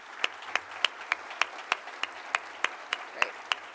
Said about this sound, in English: So now let's do a round of applause for the entire group of award winners.